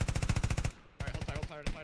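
Rapid automatic fire rattles out in a military video game, a fast rhythmic burst, a short pause, then another burst, with a voice speaking briefly near the end.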